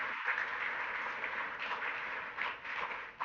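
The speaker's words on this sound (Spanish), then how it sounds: "Den un aplauso al Espíritu Santo." A church congregation claps together in a muffled, continuous wash with slight swells, moderately loud and unaccompanied by speech.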